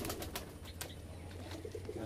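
Pigeons at a home loft let go from hands one at a time, giving faint soft wing flaps and low cooing over a quiet background for about two seconds.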